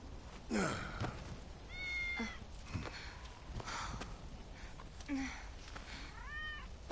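A cat meows several times within the Final Fantasy VII Remake video game, short rising and falling calls spaced across the moment over a low game ambience, moderately close and clear, with faint speech in the background.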